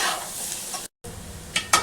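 Garlic chili paste and onion pieces stirred in a pan of hot oil give a steady sizzle with scraping. The frying is close and constant, broken by a brief gap and a couple of sharper clinks near the end.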